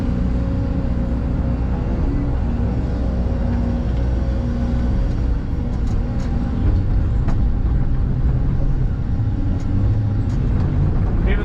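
An excavator's hydraulics shake and rumble while it places stone on a steep slope, with a loud, continuous low engine drone and faint intermittent clanks.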